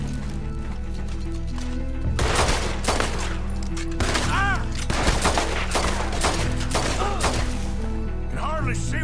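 Shootout gunfire in Red Dead Redemption 2, rapid bursts of sharp gunshots and volleys over a low musical drone, with horses nearby and a voice speaking briefly among the shots.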